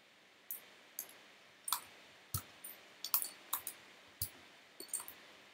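Keycaps and switches being pulled from a custom wooden keyboard, giving about a dozen sharp plastic clicks and snaps at irregular intervals, close and fairly quiet with no talking.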